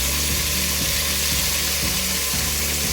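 Chicken khichuri masala with garlic paste and onion paste sizzles steadily in a pan as it is stirred, a dense, loud frying hiss with repeated rhythmic scraping pulses and no talk.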